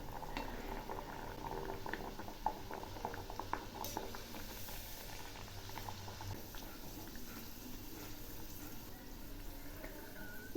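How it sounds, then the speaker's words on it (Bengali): Kochuri frying in hot mustard oil in a kadai gives a steady low bubbling and soft crackle, close and fairly quiet, with no talk. "তেল গরম হয়েছে, এখন আমি কচুরিগুলো ছেড়ে দিচ্ছি।"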